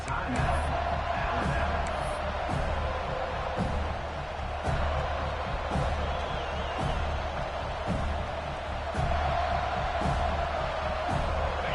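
Football stadium crowd at a college game roaring steadily with whoops and shouts, a dense continuous wall of cheering, loud and unbroken throughout, with faint speech in the mix.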